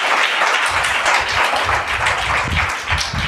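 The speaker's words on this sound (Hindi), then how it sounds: "ताली बजाकर परमेश्वर का धन्यवाद करें।" A church congregation claps together in thanks to God, a close, loud burst of dense applause that carries on steadily for a few seconds.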